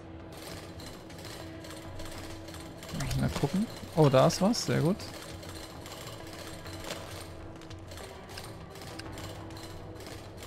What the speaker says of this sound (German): Dann bohrt mal fleißig.